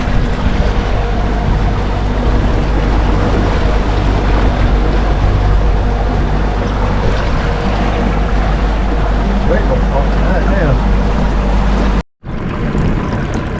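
Loud, continuous outboard motorboat engine drone with wind and water rush, cutting off abruptly near the end before resuming, in shallow water off a long Australian beach.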